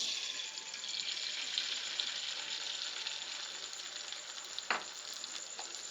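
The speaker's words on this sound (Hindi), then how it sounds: "फ्राई करने के बाद हम इसमें अंडा फ्राई करेंगे।" Beaten egg for burgers fries in a pan with a steady, dense sizzle throughout and one brief sharper crackle near the end; no voices.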